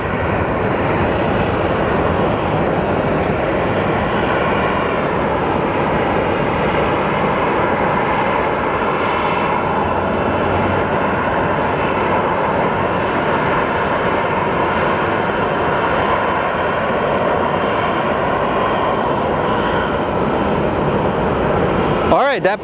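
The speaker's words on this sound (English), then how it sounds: "that plane actually ended up doing a touch and go" An American Airlines airplane performing a touch-and-go at Phoenix Sky Harbor Airport, a steady broadband engine roar that holds loud and continuous throughout, with a voice talking over it.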